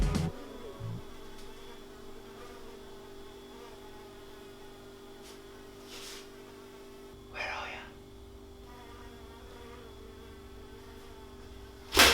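A housefly buzzes around a kitchen, a faint, steady drone running through most of the stretch under low room noise, with a few brief louder bumps and knocks.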